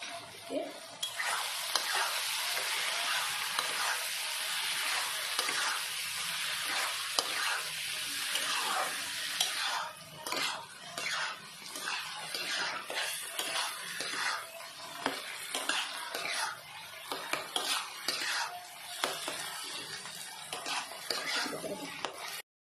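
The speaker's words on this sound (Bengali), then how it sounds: "কিছুক্ষণ ভাজা মশলাটা দেওয়ার পরে কিছুক্ষণ কষিয়ে নিলাম" Steady sizzling as a roasted spice mix is sautéed in a hot pan for a bottle gourd and shrimp curry, with a spoon stirring and scraping in quick bursts, close up and continuous throughout.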